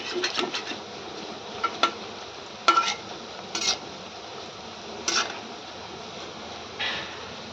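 Colocasia leaf fritters fry in hot oil after being flipped, with a low steady sizzle under sharp, sporadic clinks and scrapes of a utensil against the pan.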